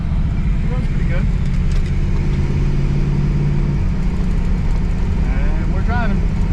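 An Oldsmobile Toronado drives along with a steady low engine drone and road rumble heard from inside the cabin, the note shifting slightly as it moves.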